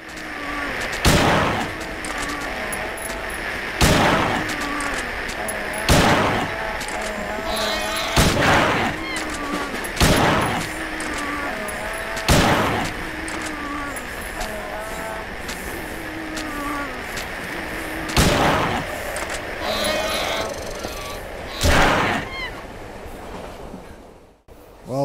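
Gunfire in the video game Silent Hill 3: about nine loud, separate gunshots ring out at irregular intervals over a droning ambient background with eerie tones.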